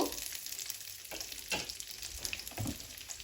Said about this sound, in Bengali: এখানে আমি কাজু বাদাম, কাঠবাদাম আর কিশমিশটা ঘিতে ভেজে নিব।